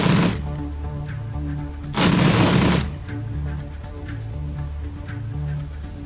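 Two bursts of gunfire from the turn-based video game Shadowrun Returns: Dragonfall, a short volley at the start and a longer, louder one about two seconds in, set against a steady, droning game soundtrack with no voices.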